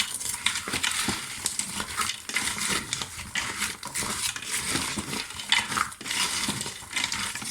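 Frozen sliced carrot rounds are stirred in a pot, with a busy run of scraping, clattering utensil strokes over a faint sizzle, close by.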